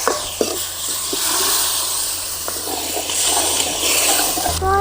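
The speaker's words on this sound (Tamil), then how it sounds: "2 கப்பு தண்ணி ஊற்றுறேன்" Water is poured into a pan of brinjal and drumstick gravy, making a continuous loud splashing hiss with small bubbling crackles up close.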